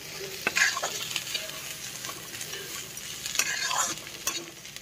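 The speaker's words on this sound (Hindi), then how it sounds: "लहसुन को पहले पका लिए थे तेल में उसके बाद प्याज डाल दिए" Onions frying in oil after garlic, a quiet sizzle with intermittent stirring clicks and scrapes of a utensil in the pan, close and fairly faint.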